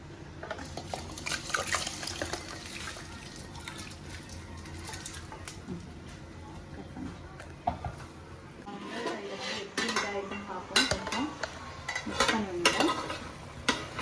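Soaked rice tumbles into a pot of Hyderabad-style dum biryani with light ghee and whole spices, giving close wet rustling, stirring and patter with a faint sizzle, growing busier toward the end.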